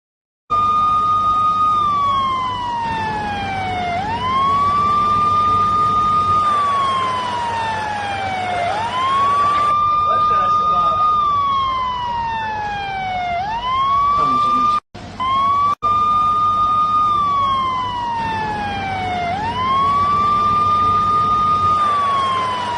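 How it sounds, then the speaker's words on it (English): Loud ambulance sirens wail close by in the Gaza Strip, several overlapping tones sweeping up and down in a repeating cycle, with a brief dropout partway through. "they chose to sound their ambulance sirens as a mark of their protest"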